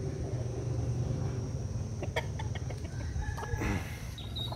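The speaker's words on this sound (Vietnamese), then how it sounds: "Và đây là cú nọc của mình nè." Fighting cocks on a Vietnamese gamecock farm cluck and call in short bursts, steady and fairly close, over a constant low farmyard hum with no talk.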